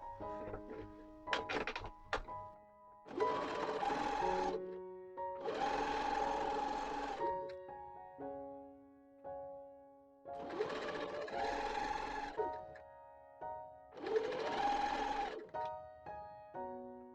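Sewing machine stitching seams on women's trousers, running in four steady bursts of a few seconds each with short pauses between, close and clear with no talking.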